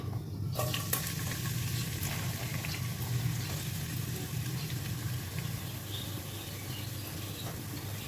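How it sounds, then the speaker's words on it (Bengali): Onion fries in hot oil with whole cumin seeds, giving a constant close sizzle with faint crackles and a few light stirring clicks, steady throughout. "তেল দিয়ে আস্ত জিরে ফোড়ন দিয়ে দিয়েছি তেলের মধ্যে এখন পেঁয়াজটা দিয়ে দিব"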